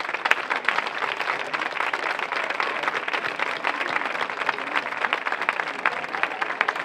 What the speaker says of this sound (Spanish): que nos toque otro bis con un fuerte aplauso